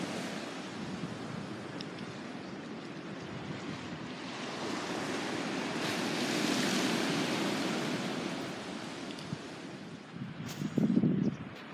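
Steady sea surf washing onto the shore at a fishing spot, a continuous broad roar that swells slightly in the middle, with wind buffeting the microphone and a brief knock near the end.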